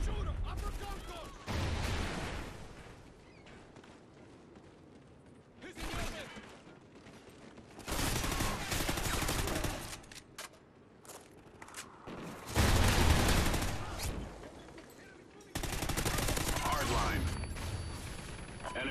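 Bursts of video game gunfire come in clustered volleys, loud rattling stretches separated by quieter gaps, with game voice lines heard in between.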